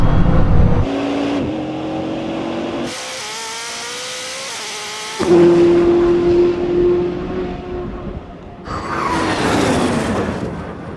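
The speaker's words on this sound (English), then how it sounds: "The Jesko struggles for traction, while the Bugatti uses its all-wheel drive system to put the power down cleanly and efficiently." Bugatti and Koenigsegg Jesko hypercars of around 1600 horsepower race from a rolling start, their engines loudly revving and roaring with rising gear pulls and shifts, one car sweeping past close by.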